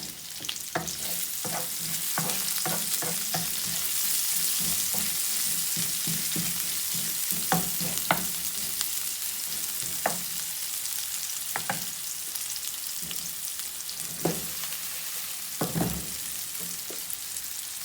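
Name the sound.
onion frying in pan for pinakbet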